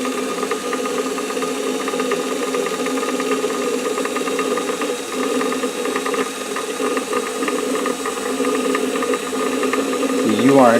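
A home sewing machine winds a bobbin on its own, giving a steady mechanical whir and rattle that runs continuously and close by, with voices talking over it.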